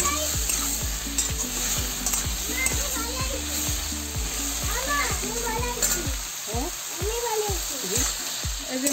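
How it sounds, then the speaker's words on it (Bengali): Shrimp heads frying in a pan with turmeric and salt, a steady loud sizzle with repeated rhythmic stirring scrapes and clatters throughout, louder bubbling spatter toward the end. "এই যে মাথা কটা যে ভাজি দিচ্ছি,"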